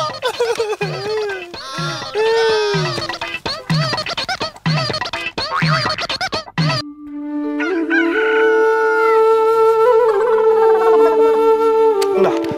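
A rooster crows loudly amid other noises, with clucking and scratching sounds before a sustained, layered tone takes over.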